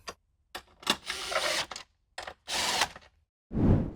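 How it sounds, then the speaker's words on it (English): Ratcheting 13 mm socket wrench tightening the bolts on a Jeep Wrangler JL battery lid: a few short bursts of dry rapid clicking separated by pauses, then a duller knock at the end, close and fairly loud. "let's secure the lid with a 13 millimeter or a 1/2 inch socket"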